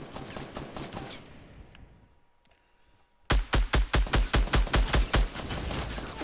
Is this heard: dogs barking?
no